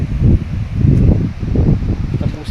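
Strong wind gusts across a riverside bridge, a heavy low buffeting rumble that swells and dips close to the microphone and carries on without a break for a few seconds.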